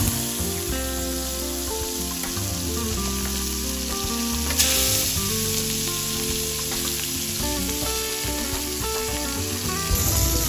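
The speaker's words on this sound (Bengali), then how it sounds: "তেলগুলো একটু গরম হওয়ার পরপর মা তার মধ্যে মাছগুলোকে ছেড়ে দিচ্ছে।" Pieces of katla fish fry in hot mustard oil in a wok, giving a steady, dense sizzle that continues without a break, close and moderately loud.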